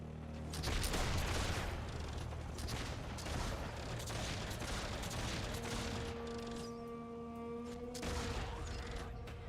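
Rapid machine gun fire from the online fantasy battle game Warhammer Online crackles in dense, continuous bursts, mixed with mechanical clanks and a steady tonal hum from the game in the latter half.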